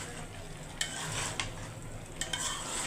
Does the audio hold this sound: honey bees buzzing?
no